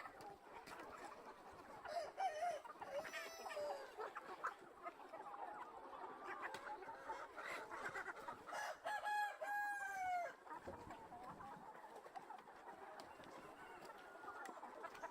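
Chickens on a large poultry farm of around 2000 birds cluck steadily, with a rooster crowing clearly twice around the middle, all at a moderate distance without talk.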